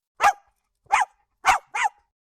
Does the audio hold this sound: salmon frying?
no